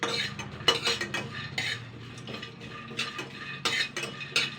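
Red chillies, peanuts and cumin being stirred in a hot pan: repeated scraping and clinking of a utensil against the metal, irregular bursts over a steady low background, close by and fairly loud.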